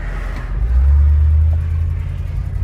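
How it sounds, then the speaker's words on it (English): A car passes close by on the way to a boat launch, its engine swelling into a loud low rumble before easing off as it goes. "There's a car here."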